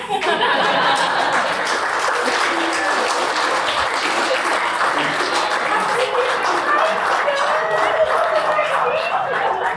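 An audience claps steadily and loudly for the full stretch, with scattered chuckles and voices mixed into the dense applause.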